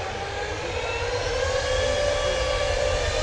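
An easyJet Airbus A320neo jet airliner at Manchester Airport gives a steady, continuous jet engine roar with faint whining tones, holding even and moderately distant throughout with no voices.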